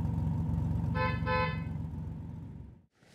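A car horn sounds in two short honks close together, a clear toot over a steady low road rumble that fades out near the end.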